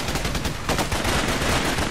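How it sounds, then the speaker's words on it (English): Video game gunfire in the Xbox 360 squad shooter Raven Squad: loud, dense, rapid automatic fire with overlapping machine-gun bursts rattling continuously throughout. "They're shooting at me!"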